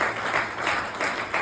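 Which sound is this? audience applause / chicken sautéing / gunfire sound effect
audience applause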